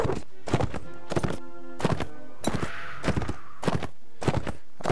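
Horse hooves in the Mount & Blade Warband video game clop in a steady galloping rhythm, loud and close, with a brief whinny partway through.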